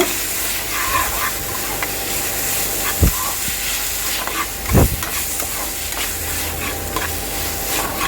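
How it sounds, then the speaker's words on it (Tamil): Chopped tomatoes and onions sautéing in a pan for crab masala gravy: a constant dense sizzle with a few sharp stirring knocks and scrapes, close and steady throughout, no talking. "அந்த ரெண்டு தக்காளி பழத்தையும் சேர்த்து நல்லா வதக்கி விடுங்க"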